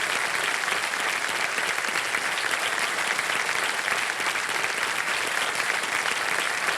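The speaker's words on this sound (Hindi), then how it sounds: "ताली बजती रहे" A studio audience on the KBC quiz show breaks into loud, sustained applause, a dense, even wash of clapping that holds at steady strength throughout.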